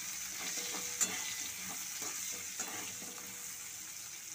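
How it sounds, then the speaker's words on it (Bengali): Large onion pieces fry in the oil left from frying eggs for a dhaba-style egg curry, making a steady close sizzle with light stirring clinks and no talking. "ডিম ভাজা তেলের মধ্যে আমি 4টে বড় সাইজের টুকরো করা পেঁয়াজ দিয়ে দিচ্ছি।"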